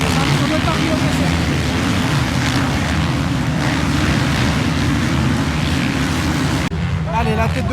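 450 motorbikes racing at the Loon Beach Race, a continuous loud engine roar mixed with wind and surf noise, dropping away briefly near the end as a voice comes in.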